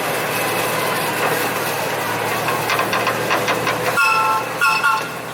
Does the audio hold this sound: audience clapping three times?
no